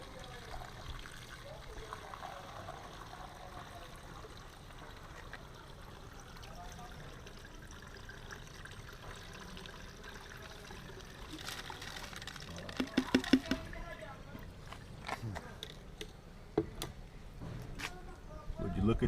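Fuel poured through a Guglatech filter funnel makes a steady low trickle and gurgle, with a few louder splashing clatters near the end, while someone talks over it.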